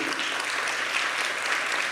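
A conference audience at an industry event gives the Apex team and its leader a round of applause, with steady, even clapping from many hands throughout.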